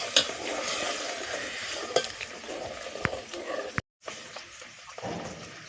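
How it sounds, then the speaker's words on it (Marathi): Ground masala paste for a village-style crab curry sautéing in a pan, a soft steady sizzle with scraping stirs and occasional clinks of the spoon, close and moderately quiet, with a brief gap near the end. "आता जे वाटण वाटलं होतं ते याच्यात परतून घ्यायचंय"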